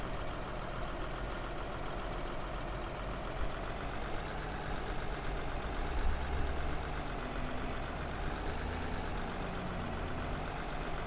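Steady, continuous idle rumble from a mod tractor engine in the game Farming Simulator 2013, heard up close and loud for the whole stretch with no voices over it.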